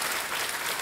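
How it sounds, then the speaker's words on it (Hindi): Studio audience applause on the TV quiz show Kaun Banega Crorepati, a brief steady wash of clapping heard alone and fairly faint. "एक बार फिर तालियों के साथ मुकेश जी का अभिनंदन"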